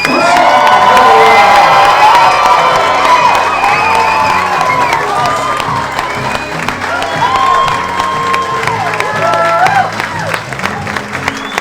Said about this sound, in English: I need you to stand up, stomp your feet, and clap your hands for Dylan and Rachel.